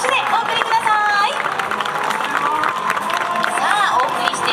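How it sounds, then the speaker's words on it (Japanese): A stadium crowd at a baseball fan festival applauds a guest pitcher, dense steady clapping and crowd noise mixed with an announcer's voice throughout. "大きな拍手でお送りください"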